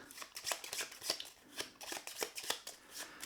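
Playing cards for the evolution-themed board game Phanerozoic are shuffled by hand at a table, a close run of rapid riffling flicks and soft slaps repeating steadily for several seconds.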